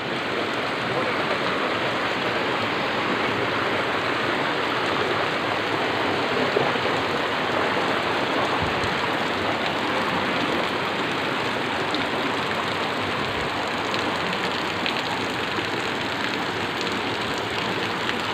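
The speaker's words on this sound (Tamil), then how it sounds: "தண்ணி சிவன்லேருந்து மேலேருந்து ஊற்றுது" Water pours steadily onto a Shiva lingam at a temple, a loud, continuous rushing splash that holds at an even level from start to finish.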